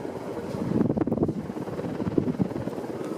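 A Casablanca Delta II ceiling fan from around 1992 runs on high with a near-silent motor, its blades pushing air into a gusty, fluttering wind rush against the microphone, with no voices.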